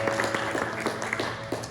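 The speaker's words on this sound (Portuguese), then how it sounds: "Pode aplaudir o Senhor." Church congregation applauding, a sustained patter of many hands clapping at moderate distance under a sustained voice.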